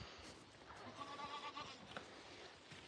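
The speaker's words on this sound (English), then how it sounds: "So this is Faye and Elsa, our two new full-size goats" Two full-size goats in a barn give a faint, short bleat amid quiet rustling, heard from close by at low volume.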